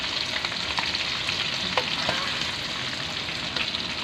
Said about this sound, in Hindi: तकरीबन फ्राई हो चुका है।